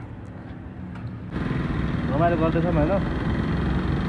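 A Honda Splendor motorcycle engine runs at a steady idle close by, rising slightly in level partway through, with people talking over it throughout.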